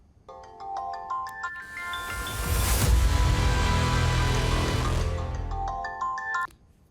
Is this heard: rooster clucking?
no